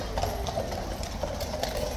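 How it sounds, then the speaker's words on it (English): Horse hooves clip-clop in quick succession as a horse runs through a tunnel during a King's Guard procession, the echoing beats dense and steady under a busy crowd ambience. "One horse is super enthusiastic, just running through the tunnel"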